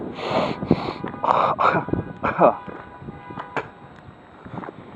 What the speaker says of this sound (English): let me cough it out